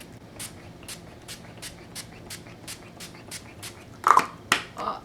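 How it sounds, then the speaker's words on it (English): A rapid series of about a dozen short, evenly spaced spray bursts of makeup setting spray from a pump mist bottle onto a face, followed by a few louder, closer rustling sounds. "you spray your setting spray all over your face"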